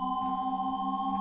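A steady layered electronic tone holds level throughout, several stacked pitches sustained without a break as a Shepard tone, continuous and moderately loud with no voices.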